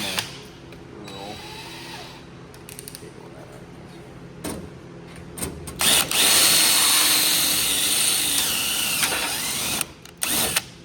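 A drill bit grinds into metal on a race car, a harsh whining bite that surges loudest midway with creaks and ratcheting clicks, close by, with people talking faintly in the background.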